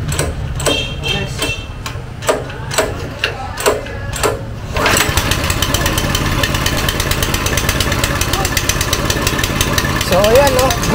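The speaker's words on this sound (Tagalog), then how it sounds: "Nagkumandar na yung makina." A small water pump engine, flooded during a flash flood, sputters through several uneven firing pulses before catching and running in a loud, fast, steady rattling idle close by.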